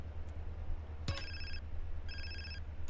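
A mobile phone rings in GTA San Andreas: a sharp click, then two short bursts of bright electronic ringtone separated by a brief gap, loud and alone over a faint low hum.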